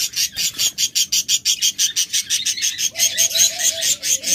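Large budgerigars and ghughu doves caged at a bird sale chirp continuously in a dense, rhythmic chatter of bright calls, with a clearer repeated whistle joining partway through; no voices.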